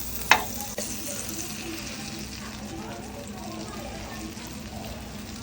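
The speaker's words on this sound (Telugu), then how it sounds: "బటర్ వేసుకుని ఈ బన్స్ ఇలా దోరగా వేపుకోవాలి." Pav buns toasting in butter on a flat pan give a steady, close sizzle throughout, with a sharp clatter near the start and a voice speaking over the frying.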